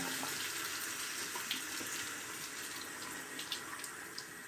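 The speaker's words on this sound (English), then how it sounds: "Get some more hot water on my face because it's dried." A tap runs hot water steadily into a sink, a soft, continuous hiss of water with occasional small splashes, close by and without voices.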